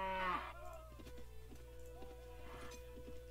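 Cattle moo in the video game Mount and Blade, one loud low moo opening the clip and a fainter moo following later, over steady background game music.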